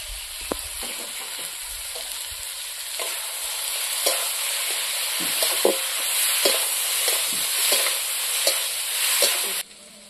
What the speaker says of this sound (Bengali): বন্ধুরা এখন সবজিটা কত সুন্দর ভাজা হয়ে গেছে, মশলাগুলো কত সুন্দর ভাজা হয়েছে।